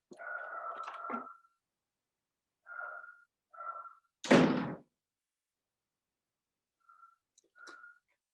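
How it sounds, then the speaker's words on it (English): A door shuts indoors with a single sharp thud, preceded and followed by faint whistling tones in an otherwise quiet room. "going to shut the door."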